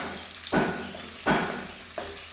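Onions frying in a pan in a tiny kitchen are stirred in three separate strokes, each a short scraping sizzle over a quiet, steady frying hiss.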